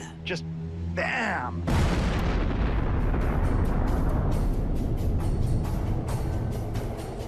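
An explosion sound effect for an evaporating black hole, a sudden massive boom that breaks into a sustained roaring rumble with crackling bursts, following a brief whooshing sweep and some talk at the start.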